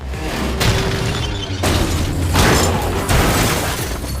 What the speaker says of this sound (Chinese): 车胎瞬间爆炸，车子失控之下直接翻滚到桥底下。